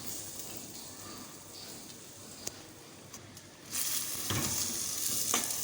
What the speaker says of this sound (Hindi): हमारी प्याज जो है वो अच्छे से फ्राई हो रही है